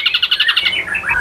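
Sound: songbird calling

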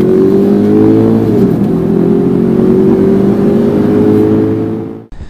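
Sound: Subaru Legacy 2008 2-liter boxer engine revving

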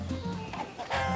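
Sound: rooster clucking in video game Far Cry 6

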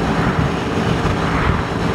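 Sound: two-stroke motorcycle engine straining uphill

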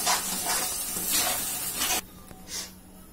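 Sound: tomato paste cooking in pan

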